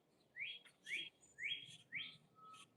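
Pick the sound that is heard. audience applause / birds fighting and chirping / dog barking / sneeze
birds fighting and chirping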